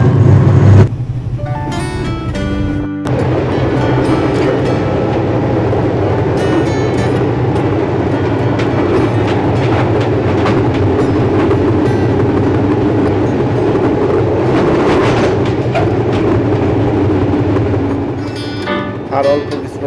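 Nilsagar Express passenger train running on rails between Dhaka and Saidpur, a loud steady rumble with clickety-clack beats and onboard clatter heard from inside the carriage, with voices talking over it.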